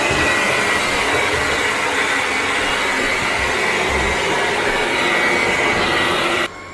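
A powerful 190 AW cordless stick vacuum runs at a steady, loud, close whine, cutting off abruptly at the end.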